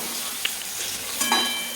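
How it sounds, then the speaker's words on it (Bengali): Tofu pieces frying lightly in hot oil give a soft, steady sizzle and hiss, close and alone, with a couple of tiny pops and clinks. "টোফুগুলো হালকা ভেজে নেওয়ার পর তুলে নেওয়া হলো তেল থেকে"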